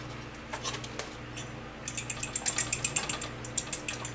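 A whisk beats eggs in a bowl for French toast, making quick, light, rhythmic clicking taps that start sparse and then run as a fast, even burst close by.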